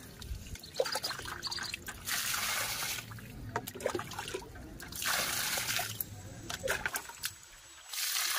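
Water is poured onto garden plants, including a rose and aloe vera, in repeated bursts of splashing and trickling, close and fairly loud, with brief gaps between pours.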